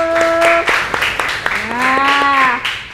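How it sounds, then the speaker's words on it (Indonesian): Students in a classroom clap along, with rhythmic claps mixed with loud, drawn-out sung or chanted voices carrying over the clapping. "Tepuk tangan dulu."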